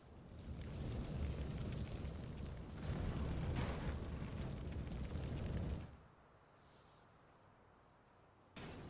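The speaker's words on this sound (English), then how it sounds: "Explosion." Video game explosion: a loud, rumbling roar that sustains for about six seconds, then cuts off abruptly into near silence, with a brief burst of noise at the very end.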